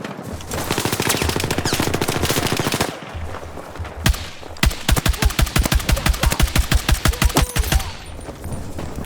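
Gunfire in the video game Battlefield 6: a long automatic burst, a pause, then a sharp single shot followed by a rapid rhythmic string of loud shots, close and dominant with no speech.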